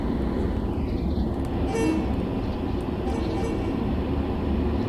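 Train rumble from the Train Sim World 2 game on the Metro North Harlem Line, a steady low drone of rolling wheels and motor with brief higher whines, continuous and fairly loud throughout.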